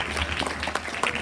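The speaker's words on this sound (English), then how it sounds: "one more round of applause for this team" Brief burst of audience applause for a student team at a science fiesta demo, dense clapping at moderate loudness with some crowd murmur.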